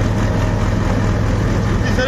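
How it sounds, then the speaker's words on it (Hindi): A Sonalika Tiger DI 55 tractor engine labours under heavy load in third low gear at about 1100–1200 rpm while pulling a straw reaper. It gives a steady, loud, close diesel drone with no break. "तीसरे के लो गियर में चल रहा है ट्रैक्टर"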